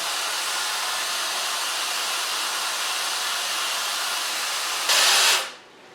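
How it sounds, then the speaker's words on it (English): A hair dryer blows a woman's short, freshly cut hair, a loud steady close-up whoosh that surges briefly before switching off and fading out. "Now so far blow drying."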